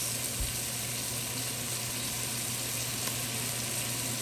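Tomatoes added to a hot pan for a chicken-tomato casserole give a continuous, moderate sizzle with a soft bump at the start, steady and close with no talking.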